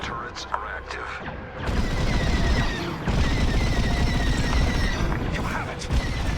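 Turret gunfire in the Star Wars: Squadrons space combat game, a dense, sustained barrage of rapid blasts and booms that runs loud and continuous through most of the clip amid other combat noise.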